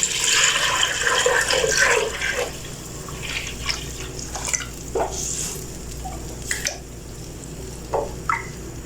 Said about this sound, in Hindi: अब मैं सारा पानी दही और बेसन का मिक्सचर इसमें डाल चुकी।